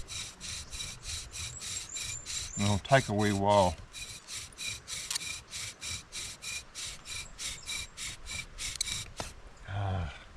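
Dry wood rubbing hard against wood for a friction fire during a New Zealand wilderness survival challenge: about two dozen steady, even strokes rasp up close, with someone briefly talking partway through.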